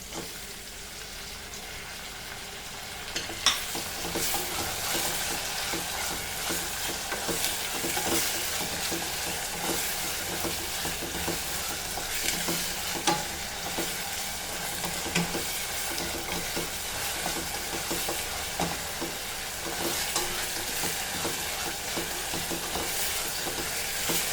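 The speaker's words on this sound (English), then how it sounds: "Now we'll add our tomato to this." Chopped tomato frying in a pan for Goan coconut dal, a close, continuous sizzle with a sharp crackle as it goes in, then repeated scraping stirs of the spoon throughout, fairly quiet and with no talk.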